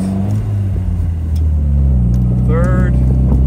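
A 1956 MGA's engine drones at a steady low pitch while driving, loud and close, with a brief rise near the end as gears change; a voice speaks over it.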